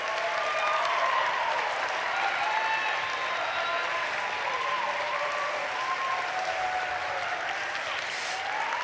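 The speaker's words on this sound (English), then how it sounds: "Cheer for your fellow graduates here today." Graduates at a commencement ceremony applaud and cheer, a dense, steady wash of clapping with scattered whoops from a large crowd, sustained loudly throughout with no speech.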